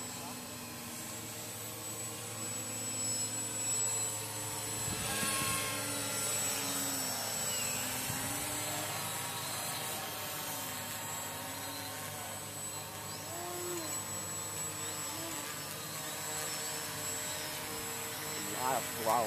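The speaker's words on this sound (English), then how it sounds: "A lot of throttle management on this plane." A radio-controlled model airplane with a battery-powered motor flying outdoors, giving a steady whining drone that rises and falls with throttle changes throughout, with people talking over it.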